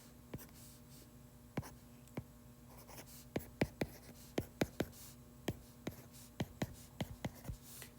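A pen or marker writes out a graph during an algebra lesson. It makes faint, sharp taps and short strokes at an uneven rhythm over a low steady hum, with no talking.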